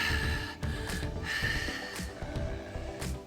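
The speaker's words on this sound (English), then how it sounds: "somewhere you hear the dragon's heavy breaths" Heavy, rasping breaths of a dragon in a D&D Jr. game effect repeat in slow rhythmic gasps and snorts, close and moderately loud over a dark ambient bed.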